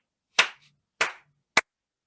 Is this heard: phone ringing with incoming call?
no